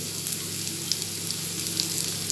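Eggs frying in oil in a pan for an egg fry, a soft, steady close sizzle with scattered small crackles and pops throughout.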